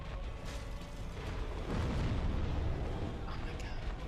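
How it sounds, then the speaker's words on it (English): Explosions go off during a boss fight in a video game (DSRR): dense rumbling bursts fill the whole stretch, swelling louder from the middle onward, with a voice talking over parts of it. "If you didn't have the explosions, it'd be more fun to fight you"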